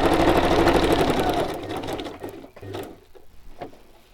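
A sewing machine runs in a loud, steady rhythmic burst for about a second and a half, then stops, leaving quieter handling noises while a craft project is being made.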